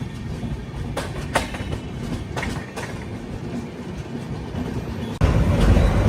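A Secunderabad to Goa passenger train runs on its rails near Bellary, a steady close rumble with faint wheel clicks that swells abruptly louder near the end.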